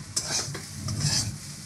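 Potato and brahmi greens frying in ghee, a close steady sizzle with a utensil stirring and scraping through the pan.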